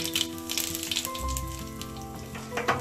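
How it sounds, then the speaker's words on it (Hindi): Dried red chilies, cumin and asafoetida dropped into hot oil for a tadka, crackling and sizzling in quick bright pops close by, with a low tone running underneath. "तड़के के लिए ऑयल लेंगे, उसमें लाल मिर्च, सूखी हुई,"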